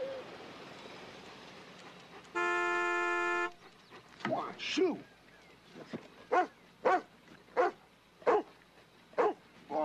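A dog barks repeatedly at a car in a series of sharp, evenly spaced barks after a car horn sounds, with people talking and a few whimpering yips mixed in.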